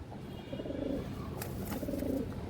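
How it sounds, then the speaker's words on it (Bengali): Silver female pigeons of the kajla gear type coo in two soft, rolling bursts with a pause between, close by and alone with no voices. "কাজলা গিয়ারের সিলভার মাদি কবুতর"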